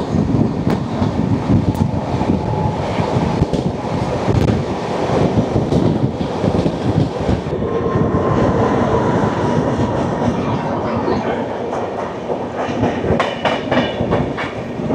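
Riding aboard a Mumbai Howrah Mail express train nearing Galsi station, a loud continuous rumble of wheels and carriage with rhythmic clickety-clack and wind buffeting the microphone, no voices.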